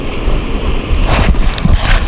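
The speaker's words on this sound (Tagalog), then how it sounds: "Tsaka sobrang lakas ng hangin kaya nagpahinga muna kami ni Jirek." Strong gusting wind buffets the microphone aboard a fishing boat at sea in rough waves, a loud, uneven rush with low rumbling bursts.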